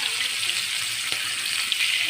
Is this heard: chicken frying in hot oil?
yes